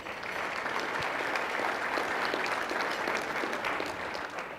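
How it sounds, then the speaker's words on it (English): A room full of people applauds sponsors at a city's annual state-of-the-city address, dense, even clapping held at a steady level for several seconds with no speech. "Let's give these guys a round of applause."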